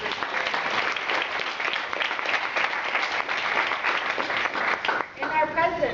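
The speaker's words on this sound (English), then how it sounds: "Please give a round of applause to our" Sustained audience applause at an end-of-semester meeting, dense steady clapping from a crowd filling the whole span, with a brief dip near the end as a voice begins over it.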